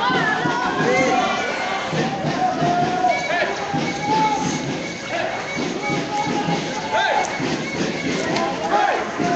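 Protest crowd on an anti-austerity march through Montreal streets, a broad continuous wash of many voices with scattered shouts and calls, loud and steady throughout, with no clear rhythmic chant standing out.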